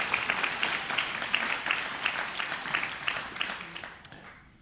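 An audience at a Black History Month event honoring a Tuskegee Airman breaks into applause, a dense wash of clapping that holds steady and then fades out near the end.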